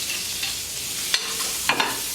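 Japchae glass noodles are stir-fried in a hot pan, with a constant loud sizzle and a couple of sharp scrapes and tosses from the spatula.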